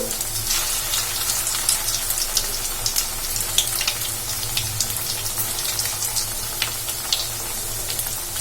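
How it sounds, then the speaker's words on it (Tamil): Cauliflower pakoda coated in breadcrumbs frying in hot oil, a steady close crackling sizzle with scattered sharp pops over a low hum, no talking. "ஒவ்வொரு காலிஃபிளவரா எடுத்து ஆயில்ல போட்டு ஃப்ரை பண்ணி எடுத்துக்கலாம்"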